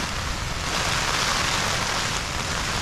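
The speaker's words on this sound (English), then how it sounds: "it's throwing it down with rain" Heavy rain drums on a tent at a mountain tarn during Storm Kathleen, a dense, constant hiss that fills the whole stretch without any voices.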